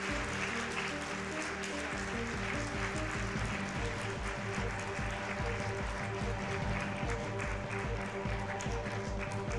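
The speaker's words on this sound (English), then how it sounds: "how about a round of applause for Claris" An audience claps steadily for several seconds after a Metroid Prime 3: Corruption speedrun at a charity gaming marathon, a dense sustained round of applause with a low hum underneath.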